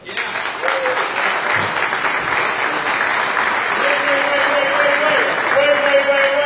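Loud, sustained applause from a large audience welcoming an Allegiant executive to the stage at an airline announcement event, with crowd cheering and voices mixed in throughout.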